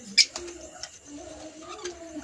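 Pigeons or doves coo softly in the distance, with a few brief chirps and faint rustling in a quiet outdoor setting.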